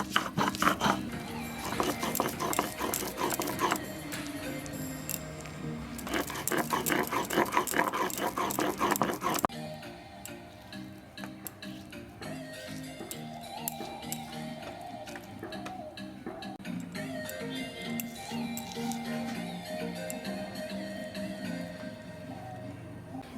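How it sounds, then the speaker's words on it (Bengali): Soaked lentils ground without water on a flat grinding stone (shil): rhythmic rubbing strokes, loud and dense for the first nine seconds, then a quieter, steady back-and-forth grinding. "আমি এবার ডাল দুটো শিলে বেটে নেব।"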